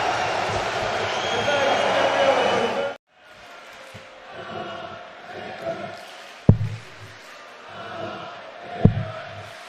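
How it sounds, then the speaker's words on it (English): A darts crowd at the European Darts Matchplay cheers loudly for several seconds, then falls quiet before scattered shouts and sharp thuds, with a commentator speaking over the arena noise. "The crowd trying to get involved to get behind one of their own"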